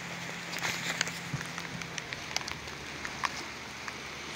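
Light drizzle patters softly and steadily outdoors on a muddy, slippery path, forming a faint continuous hiss broken by sparse small drops, with no voices.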